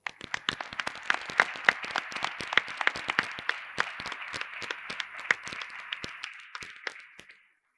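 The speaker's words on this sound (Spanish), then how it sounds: "Vamos a darle un aplauso muy fuerte a Antonio" An audience at a Spanish book presentation gives a sustained round of applause, many hands clapping in a steady dense patter with sharp individual claps standing out, fading to silence at the end.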